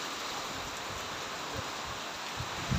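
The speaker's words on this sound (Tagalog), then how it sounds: "Malakas ang ulan hanggang ngayon." Heavy rain falls after a typhoon's landfall over a vegetable garden of bitter gourd, eggplant and tomato plants, a dense, steady hiss that fills the air without a break.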